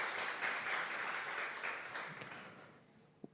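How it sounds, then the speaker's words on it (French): A conference audience applauds for the creator of the game Dead Cells, a fairly distant, moderately faint round of clapping that gradually fades out. "je pense qu'on peut l'applaudir pour ceux qui ont apprécié de jouer à Dead Cells"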